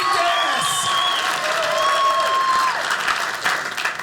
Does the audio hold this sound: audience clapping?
yes